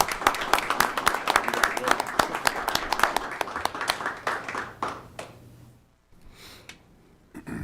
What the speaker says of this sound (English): I think we need to applaud them.